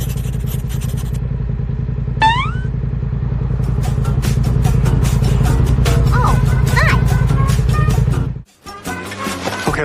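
A BMW S1000XR motorcycle engine runs steadily nearby with a loud, even rumble, plus some clicks and rustles around it before the sound drops out near the end.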